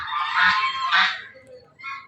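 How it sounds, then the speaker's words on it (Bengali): Domestic ducks calling in loud, harsh honking bursts, two long overlapping calls followed by a shorter one after a brief pause, close by with no talk. "তারা হাঁসগুলো দেখাই তোমাদেরকে"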